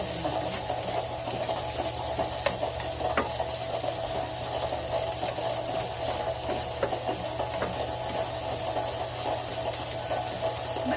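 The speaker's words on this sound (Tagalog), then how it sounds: "Maingay yung aking kumukulo kasi yung tubig ko." Water boiling in a pot on a home stove in the Philippines, a steady bubbling hiss with a low hum underneath, continuous and close, with no talking.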